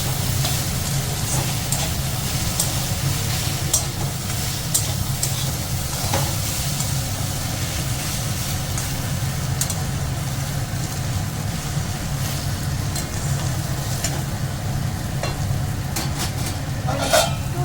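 Fenugreek greens and eggplant are stirred in a frying pan: a continuous soft sizzle broken by scattered scrapes and clicks of the spatula, steady and close, with no talking.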